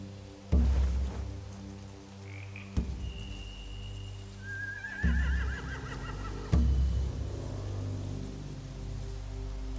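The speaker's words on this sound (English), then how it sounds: "They have horses." Horses in The Walking Dead video game give a drawn-out whinny amid several heavy thuds and a steady low ambient drone, fairly faint, with no talking.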